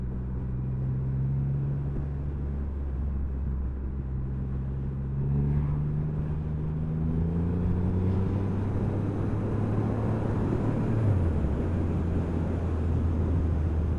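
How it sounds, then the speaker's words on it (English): A Triumph Rocket 3 R triple engine growls on the road, a loud deep rumble with revs rising and falling in sweeping tones, heavy wind rush underneath and no talking. "It's still got that sort of growl that all the other Triumph triple engines have"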